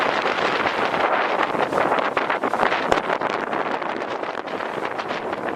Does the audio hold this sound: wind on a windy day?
yes